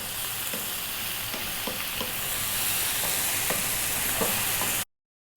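Spices and tomatoes sizzle steadily in a pan, with stirring scrapes every second or so, close and alone until the sound stops abruptly.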